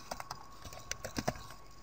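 Text typed into a Word document on a computer keyboard, a quick, uneven run of close, soft key taps with a couple of slightly heavier strokes, no voices.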